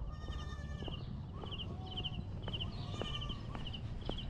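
A goat at a cheap lodging in Moalboal, Cebu gives several short, wavering bleats in a row, close and clear over a steady background hum, with no talk.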